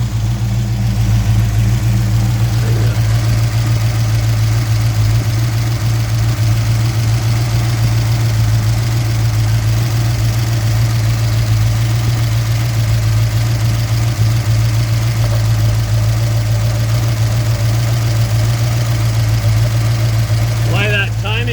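A Mopar 340 V8 with electrical issues and stalling after warming up idles steadily and loudly close by, its low rumble droning throughout while a person talks over it.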